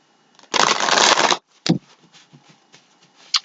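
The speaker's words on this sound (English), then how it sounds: "Okay, so I'm going to give it a couple shuffles." Oracle cards are shuffled by hand, one dense riffle of about a second followed by a sharp tap and a few lighter card clicks and shuffles in a quiet room.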